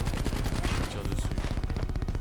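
Gunfire in the video game Call of Duty Black Ops 3, a dense, rapid burst of automatic shots rattling continuously at close range, loud and steady, with faint game sounds beneath.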